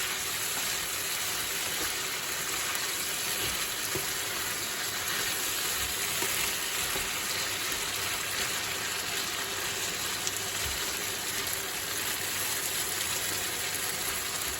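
Chopped onion softens in a frying pan for a steak Diane casserole, giving a steady, even hiss that runs unbroken throughout with no voices.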